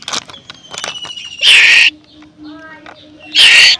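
Loud calls from a male Asian koel ring out twice, each a bright, sharp burst close by, separated by quieter rustling and faint background sounds.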